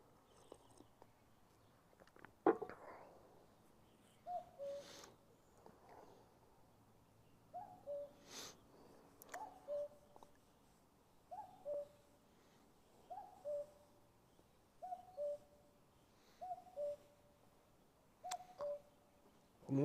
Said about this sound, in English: I wonder what kind of a bird that is.